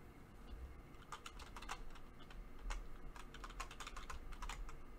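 Rapid keystrokes on a computer keyboard while entering a PowerShell command, a close, steady stream of light clicks in irregular bursts with no voices.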